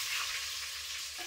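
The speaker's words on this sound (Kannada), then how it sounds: "ಜೀರಿಗೆ ಚಟಪಟ ಹಚ್ಚಿದ್ಮೇಲೆ ಬೆಳ್ಳುಳ್ಳಿ ಹಾಕ್ಲತ್ತಾರ." Garlic dropped into hot oil after cumin seeds have crackled fries with a dense, steady hiss, close and continuous through the brief moment.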